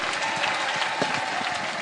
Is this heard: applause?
yes